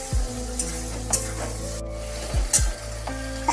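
Chunks of tomato and potato with turmeric are stirred as they fry in a pan, giving a few sharp spatula scrapes and clinks over a steady sizzle.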